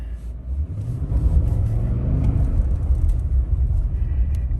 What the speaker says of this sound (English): Driving on gravel, I thought this thing would let me burn out, but it didn't.